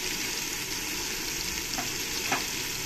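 A cumin-coriander and green chili paste fries in a pan while being stirred, making a steady, fairly quiet sizzle with a few faint scraping strokes and no speech.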